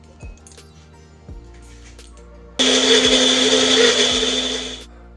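Blender grinding green chutney into a paste, a few clinks of the jar first, then a loud, close, steady motor whir for about two seconds before it cuts off.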